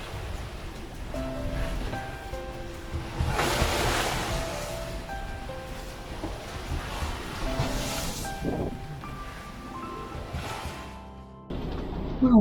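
Wind and breaking waves surge around a sailboat at sea at night, a steady loud rush with swells peaking every few seconds and gusty wind buffeting the microphone.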